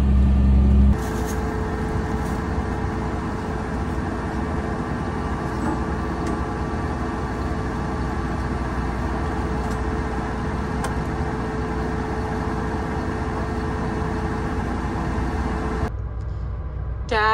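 A farm truck's engine drones steadily as it drives off, a continuous low rumble at moderate distance that holds even for most of the stretch before cutting away near the end.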